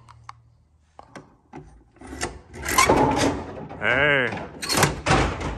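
A working Dynamo seven-foot coin-operated pool table releases its balls, with wooden knocks and clacks and then a loud rolling rumble close by, while someone speaks briefly.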